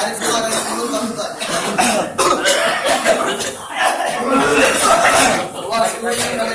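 People in a ruqyah healing session cough, clear their throats and retch repeatedly, in loud, overlapping bursts that run throughout.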